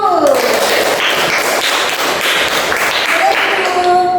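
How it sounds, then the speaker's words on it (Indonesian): A classroom group claps hands together in steady, fairly loud applause, with children's voices and chatter mixed in throughout. "Beri tepuk tangan dulu."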